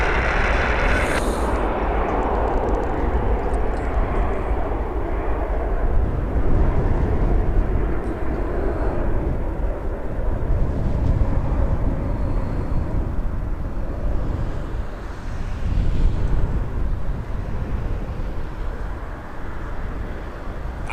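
An airliner taxiing at Toronto Pearson Airport gives a loud, steady, broad jet engine roar that swells and eases slightly over about twenty seconds, heard from nearby without talking.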